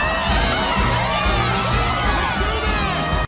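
A cartoon baseball stadium crowd cheers loudly and continuously, a dense roar of whoops and high children's shouts filling the whole stretch before cutting off abruptly at the end.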